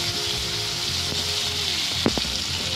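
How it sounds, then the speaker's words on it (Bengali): Onions frying in oil with cloves and cinnamon give a dense, steady sizzle, broken near the end by a couple of sharp clatters as tomatoes go into the pan. No one speaks. "লবঙ্গ, দারচিনি এবং পেঁয়াজ দিয়ে ভালো করে পেঁয়াজগুলিকে আমরা ভেজে নেব। এরপর দেবো টমেটো"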